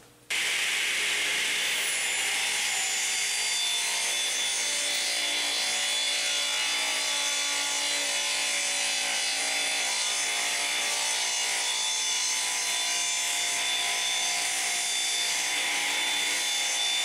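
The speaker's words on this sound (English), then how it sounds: "Let's try ripping some 3/4 inch thick pine with the Forest Woodworker 1." Radial arm saw fitted with a Forest Woodworker 1 blade ripping 3/4 inch thick pine, a loud sustained high whine and rasp of the blade cutting through the board, steady and unbroken throughout.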